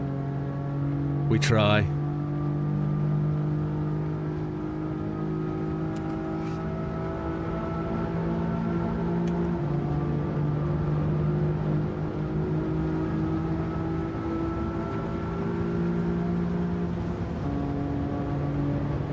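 A car engine holds a steady, droning rev during a time trial, its pitch shifting gradually with a brief sharp rise near the start, while a voice talks over it.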